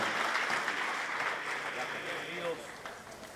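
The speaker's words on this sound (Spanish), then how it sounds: "Fuertes aplausos a nuestro Dios." Congregation applauding in a church service, a steady wash of clapping that fades slightly over time, with voices audible underneath.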